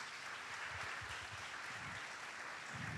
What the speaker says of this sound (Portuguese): Vamos aplaudir a vida dos nossos visitantes?